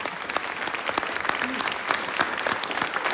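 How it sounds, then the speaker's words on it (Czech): A live studio audience claps in a dense, steady round of applause that holds for the whole stretch, loud and close. "Dáme a pánové, potlesk pro trojúhelník Zdeňka Ťápala."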